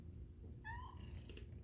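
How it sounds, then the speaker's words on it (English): A cat gives a short, rising meow near a motorcycle workbench, faint and brief against a steady low background hum. "Go away, cat."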